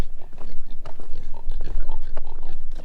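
Pigs grunting and oinking in a farm setting, a steady run of close, loud snorts and chewing noises with a person's voice talking over them.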